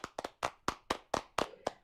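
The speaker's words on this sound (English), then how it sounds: "A round of applause once again for Cecile." A small audience at a tech conference on XR and data claps for a speaker, eight or so distinct, sharp hand claps spaced unevenly and close by, sparse rather than a full ovation.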